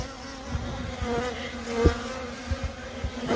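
Bees swarm around a young honeybee nest being torn apart, a steady close drone of buzzing wings with a few louder passes near the ear.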